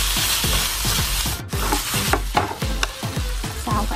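Meat stir-fried with fish sauce in a pan, a steady close sizzle broken by rhythmic scraping strokes of the spatula, about two per second, loud and continuous with no talking.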